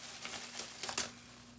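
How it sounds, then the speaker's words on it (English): A basic plastic Wegmans grocery bag crinkles softly up close, with a few quick rustles building to a sharper crackle near the end, quiet and without talk. "Is a plastic bag, and this is just a basic Wegmans bag"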